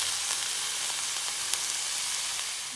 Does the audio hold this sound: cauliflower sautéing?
yes